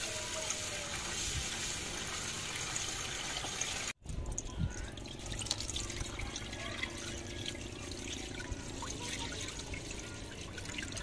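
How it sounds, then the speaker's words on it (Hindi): Rice being washed by hand in water for an iftar meal in a village kitchen, a continuous close splashing and trickling wash with a short break midway, no talk. "अब हम चावलों को धो लेंगे।"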